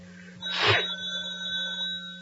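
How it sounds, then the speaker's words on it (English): A telephone bell ringing in a dark house, a single sustained ring with a brief noisy burst at its onset, then a steady tone alone with no voices. "The phone has to ring."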